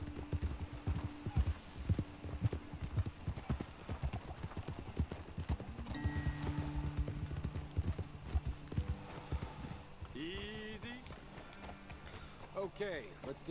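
Horse hooves clip-clop in Red Dead Redemption 2, a quick, steady rhythm of hoof beats on the ground with a whinny near the end. Someone talks over the hooves, and soft game music plays underneath.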